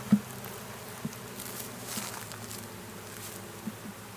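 Honeybees hum in a low, steady drone while a beehive box is installed on a family farm, close and continuous, with a few faint taps and knocks.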